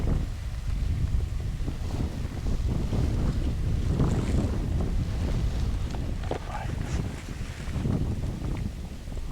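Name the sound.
wind blowing during hunting stalk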